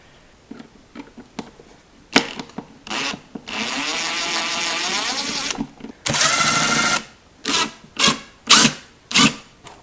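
Air filter housing screws being backed out on a Mercedes-Benz C300, a run of short ratcheting and rubbing bursts with two longer sustained grinding stretches, close and fairly loud, no talking.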